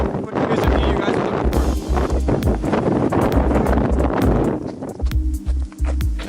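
Strong winter wind buffets the microphone continuously on an exposed hike at Sams Point Preserve, New York, a loud, close roar with gusty surges, while people talk underneath.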